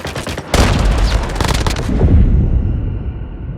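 Bursts of rapid automatic gunfire in the mobile shooter game Call of Duty Mobile during a ranked match, loud and close, beginning abruptly and then fading into a rumbling tail.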